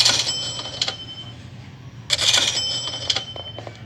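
Two bright cash register rings with jingling bell-like chimes and clicking drawer sounds, close and clear, the second burst slightly louder.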